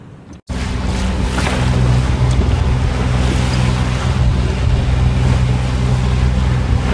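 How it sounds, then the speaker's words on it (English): A boat rides an ocean swell on the run from Hervey Bay across the Wide Bay Bar toward Brisbane. After a brief silent start, a steady, loud wash of wind and water rushes on without a break. "A reasonable size swell running at the moment."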